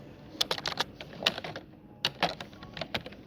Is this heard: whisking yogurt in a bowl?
no